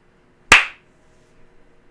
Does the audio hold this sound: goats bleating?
no